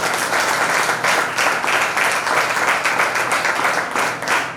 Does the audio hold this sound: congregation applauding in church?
yes